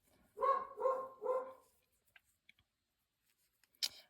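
A dog lets out three quick barks close by, followed by quiet stillness broken by a few faint clicks.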